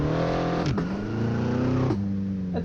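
A 2020 BMW X6M's engine under hard acceleration on the Nürburgring, heard from inside as a loud, continuous rising drone with two sharp dips at quick gear shifts.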